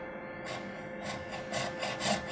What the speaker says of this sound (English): I use a metal saw for these. Creates a nice cut and they're so easy to cut through